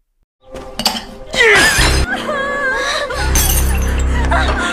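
A tea glass shatters with a bright, crashing break and tinkling shards, followed by dramatic sustained music and swelling effects in a tense scene.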